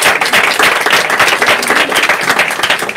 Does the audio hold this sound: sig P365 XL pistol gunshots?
no